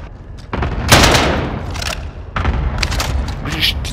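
Rapid bursts of video game gunfire crack out during a test fire, loud and close, in several clusters with brief pauses between volleys, with voices from a team chat in the mix.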